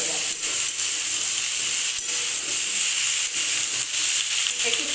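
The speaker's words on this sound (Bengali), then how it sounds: "একটু ফ্রাই হোক।" Brinjal, ridge gourd and potato frying in a pan for a thin small-fish curry, a constant bright hissing sizzle with faint soft stirring knocks, close and even throughout.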